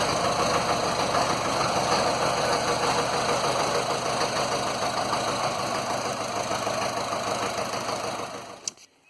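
A 2.25 litre diesel engine in a 1960s-era Land Rover Series 2a 88 runs steadily with a loud, close, knocking idle that holds for about eight seconds, then winds down and stops, with no talking.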